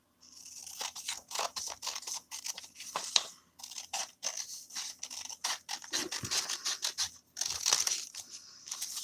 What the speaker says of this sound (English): And I need to cut a strip off of this one.